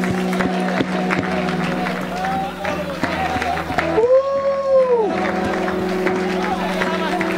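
A church congregation at an Apostolic preaching service clapping along in the aisles up front, a dense steady patter of hands mixed with crowd noise, shouting voices and music, with a sustained tone rising midway.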